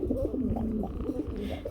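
A Lahori pigeon coos in a low, throaty, repeated rolling call, close by and steady, with no talking over it.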